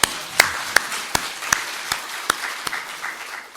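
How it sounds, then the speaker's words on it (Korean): Scattered clapping from a church congregation at a revival meeting, with a few sharp distinct claps standing out over a softer, sparse patter of hands. "우리 집사님 감사로 한 박수 보내십시오"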